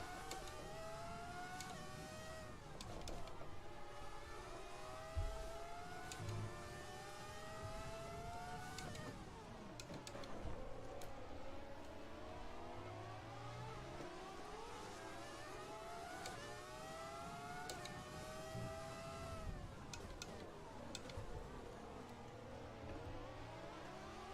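F1 car engine in the racing game F1 2020, career mode in a 1998 season race at Bahrain: a high-pitched whining engine that climbs repeatedly through the gears, dropping at each shift and braking point, steady and alone without talk.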